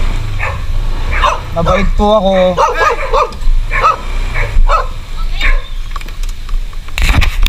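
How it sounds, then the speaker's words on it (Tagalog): Many dogs bark and yip in a busy residential area in Fairview, Manila, a chorus of loud close barks with some whimpering, mixed with people talking throughout. "Daming aso."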